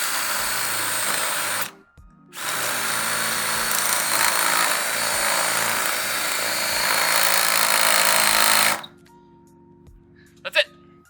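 A nibbler tool chews through the sheet-metal roof of a Ford Transit van, a loud continuous grinding rasp that runs for several seconds, pauses briefly, then resumes before stopping, with faint clicks afterward.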